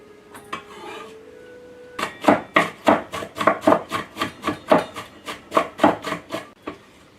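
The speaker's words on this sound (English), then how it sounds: "Going to cut up our green bell pepper here." A knife chops through a green bell pepper on a cutting board in a home kitchen, about fifteen quick, even strikes from close by after a brief rustle of handling at the start, with no talking.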